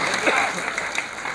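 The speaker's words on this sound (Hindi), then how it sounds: "तालियों की आवाज़ है ये बंद नहीं होना चाहिए" Crowd applause at a Republican Party of India gathering in the Andaman Islands, a brief steady burst of many hands clapping at moderate loudness.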